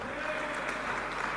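A church congregation at a sermon claps together in a steady, even wash of applause lasting the whole moment.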